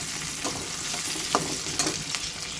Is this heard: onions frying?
yes